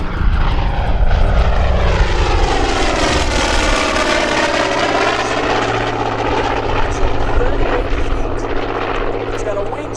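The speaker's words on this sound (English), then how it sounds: "right now, from left to right, the Collins Foundation Skyraider" A Douglas A-1E Skyraider, a huge single-propeller warbird, runs loud and steady at an airshow, its deep engine drone and prop roar holding throughout.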